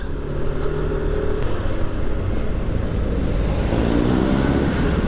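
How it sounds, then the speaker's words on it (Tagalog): Road traffic in Daraga, Albay, in the Philippines, with cars and motorcycles giving a steady low engine rumble nearby and one vehicle building slightly louder toward the end, with no talking. "Yan, traffic."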